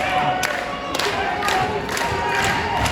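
Crowd cheering at a wrestling show in Ellisville, a steady roar of shouts and cheers with rhythmic thumps and claps running throughout, voices mixed into the din.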